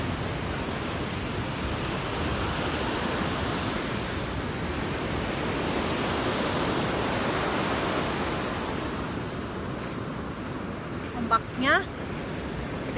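Large ocean waves break steadily at Caves Beach, a continuous broad roar of surf close by, with brief talk near the end.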